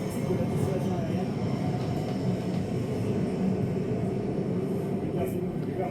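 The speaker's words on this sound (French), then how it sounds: "Il est très bas, hein, on ne se rend pas compte, mais les avions sont très bas." Military jets, including a Rafale and an MRTT tanker, fly very low over the Bastille Day parade, a steady, heavy roar that fills the whole stretch with no break.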